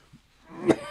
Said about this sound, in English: all of a sudden I'm coughing